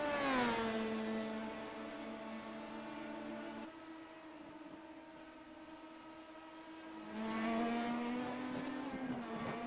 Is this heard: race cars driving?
yes